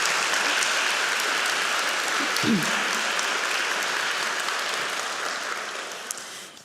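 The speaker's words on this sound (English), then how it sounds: "can we have a big round of applause?" A lecture audience applauds in a dense, sustained roar of clapping that fills the hall and fades slightly toward the end, with a faint voice briefly audible beneath it.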